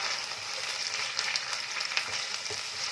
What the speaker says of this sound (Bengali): আমি এখন 1 মিনিট মতো মশলাটাকে ভালো করে তেলের মধ্যে ভাজা করে নিচ্ছি